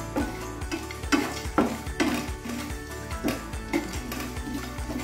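Chickpeas, sesame seeds and peanuts are dry-roasted in a pan and stirred with repeated scraping strokes, a steady rhythm of clattering and rustling seeds close by.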